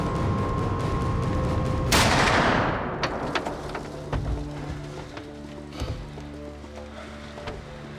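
A single loud rifle shot rings out during a snowy deer hunt, a sharp blast followed by a long fading rolling echo, with faint rustling and movement afterward.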